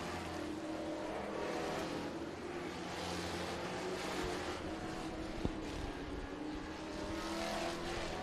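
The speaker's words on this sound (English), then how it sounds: "Leader, Jimmy Duncan, going to come up on one of the Van Vechten cars as they come down here up off of turn number 4" Race cars roar through a dirt-track feature race as they come up off turn four, a steady loud engine drone filling the whole stretch with a brief sharp crack partway through.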